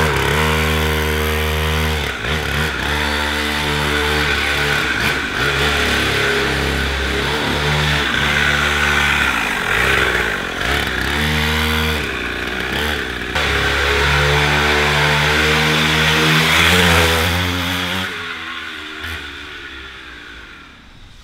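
A small mini motorcycle engine buzzes loudly and revs up and down while being ridden, the whiny, rasping tone rising and falling continuously before fading toward the end.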